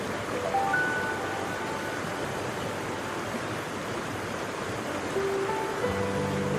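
Tumalo Creek pours over a waterfall in the Pacific Northwest, a steady, even rush of water that fills the whole scene, with a few faint tonal notes drifting over it.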